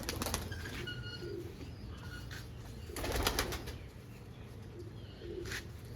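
Pigeons with clipped wings, let out of their loft in the evening, coo in low repeated murmurs, with a burst of fluttering wings around the middle, fairly close and without speech.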